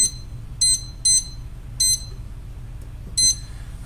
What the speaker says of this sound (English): We're going to set the timer for 30 minutes.